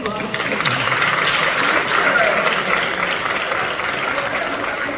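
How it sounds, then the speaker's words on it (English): Audience applause at a live Q&A event in Lexington, Kentucky, a continuous wash of clapping from a crowd, sustained and fairly loud, with voices mixed in beneath. "To give this man an applause."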